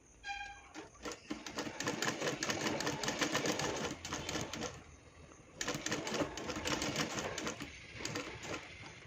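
A sewing machine stitches a garment neckline in a fashion design stitching class, running in two long sustained bursts of rapid, steady needle chatter with a brief pause between them and no talk.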